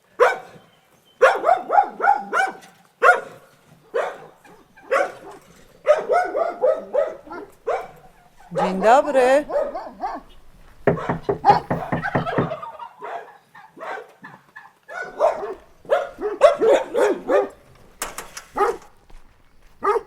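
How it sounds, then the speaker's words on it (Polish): A dog outdoors barks repeatedly in short, loud bursts, several in quick series, and a deep growling stretch follows. People exchange brief greetings between the barks. "Dobry pies, dobry."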